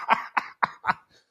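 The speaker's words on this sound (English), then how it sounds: "Excuse me, I still have a cough." Four sharp close coughs in quick succession from one person, each a harsh dry burst, followed by a faint trailing breath.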